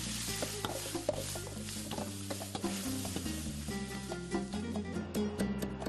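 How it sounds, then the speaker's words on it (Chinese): Minced pork stir-fried in hot oil in a wok gives a steady sizzle with scraping stirs throughout, under continuous background music. "起锅倒油，下锅煸炒"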